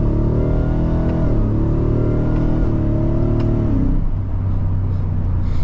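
A 720-horsepower 2024 Ford F-150 Raptor R, a 6,000-pound truck in manual mode on a back road, revs hard through paddle shifts, its engine note climbing and dropping at each gear change, loud and close, then settling into a lower rumble.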